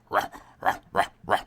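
A man imitates a dog barking, giving four short, evenly spaced vocal woofs close to the microphone, fairly quiet and with no real dog present.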